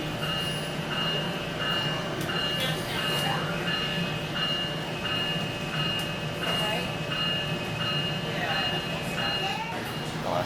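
SMART commuter rail train running through Sonoma County near Santa Rosa, a continuous rumble with steady tonal whine and faint clatter, with speech heard intermittently.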